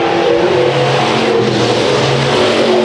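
Race cars roar around the dirt oval at Chowchilla Raceway during heat races, a loud continuous engine drone with rising and falling revs as several cars battle for position close by.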